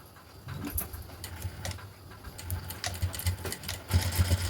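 A sewing machine stitches a blouse fitting seam, a steady low mechanical whirr with soft rapid needle clatter running throughout at moderate, close range, with no talking.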